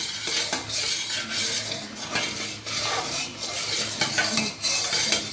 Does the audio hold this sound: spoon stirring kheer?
yes